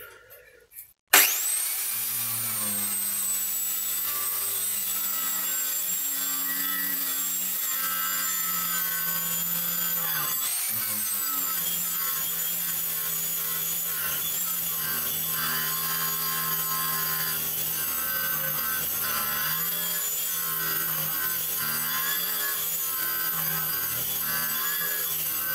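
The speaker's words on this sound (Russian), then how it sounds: "чистить ржавчину, окалину, то, что было при изготовлении там уголка" A Wortex WCBC075KA011 twisted-wire cup brush on an angle grinder scrubs rust and mill scale off a steel angle. It gives a loud, steady whirring rasp that runs almost unbroken after a short start, with no talking.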